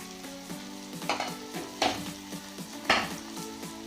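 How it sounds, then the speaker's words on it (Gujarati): Chopped capsicum and green onion sautéing in a pan for bhungara bateta, a steady close sizzle broken by a few scraping stirs of a spoon against the pan, with no one talking. "હવે સારી રીતે એને સાતળી લઈશું."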